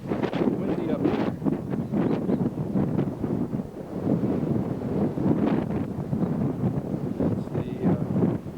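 Gusty wind buffets the microphone at a hilltop lookout above Honolulu and Diamond Head, a rough, uneven rumble that swells and dips throughout without letting up.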